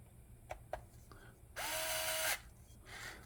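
A power driver runs a screw down during reassembly of a Ridge Racer U4 pinion, with a few clicks of handling, then a loud, close whirring burst that stops, followed by a softer second spin.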